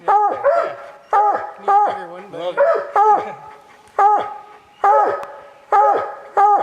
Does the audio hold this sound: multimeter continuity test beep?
no